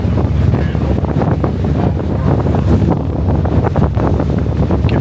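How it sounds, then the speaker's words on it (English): Strong wind buffets the microphone aboard a boat on the Chesapeake Bay, a loud, steady roar with gusty rumble and water wash underneath, no voices. "You can feel the wind. It is a little windy."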